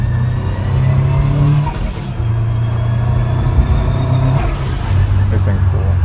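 A car with a sequential transmission howls with a steady whine as it runs through the gears, the pitch stepping up and dropping again at each shift. Engine rumble sits underneath, and a person is talking at the same time.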